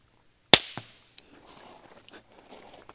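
A B&T VP9 suppressed pistol fired into dirt outdoors gives one sharp, fairly loud crack with a short decay, followed by faint scattered ticks and rustling.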